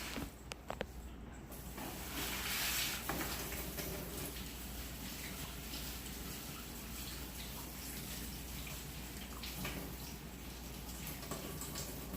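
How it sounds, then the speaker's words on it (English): Tap water runs steadily into a kitchen sink as raw pork ribs are rinsed, a continuous broadband wash of moderate loudness that carries on alone for the whole stretch. "I'm gonna take it to the sink right now and wash it off"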